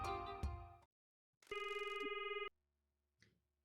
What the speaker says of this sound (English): Pinky, we should phone Mr. Sato.